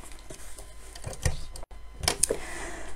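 Sewing machine stitching fabric for a child's apron, a brief close run of mechanical whirring and ticking with a short pause midway, fairly quiet, no voices.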